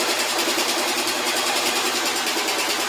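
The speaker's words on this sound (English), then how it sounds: "moving my fabric through the sewing machine, taking pins out" A sewing machine stitching fabric while sewing a slip, a loud, steady, rapid mechanical whir that runs continuously and close without any talk.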